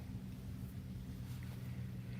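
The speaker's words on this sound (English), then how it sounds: "So, it's very windy." Steady outdoor wind on a cold, blustery day, a low continuous rumble of air buffeting the microphone with no voices.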